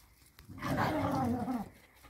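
A dog snarls and growls in one sustained, close, moderately loud burst lasting about a second, ending abruptly, with no voices over it.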